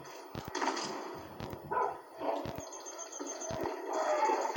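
A hunting dog outdoors during a hunt gives short, repeated barks and yips at middle distance, mixed with rustling, clicks and background bird calls.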